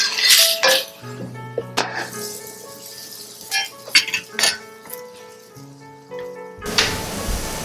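A Trinidad coconut bake is flipped in a pot, with metal clinks and clatters of the pot and utensils in scattered bursts, ending in a louder rattle.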